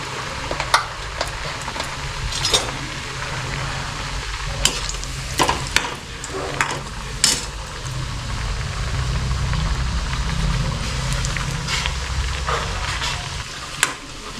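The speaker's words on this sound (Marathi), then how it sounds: "आपण आता या अशा तेलात सोडूया आणि छानपैकी खरपूस तळून घेऊया" Puris deep-fry in hot oil, a constant close bubbling hiss dotted with sharp crackles and pops as they cook to golden brown.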